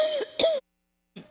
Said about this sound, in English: hold on, I'm gonna cough.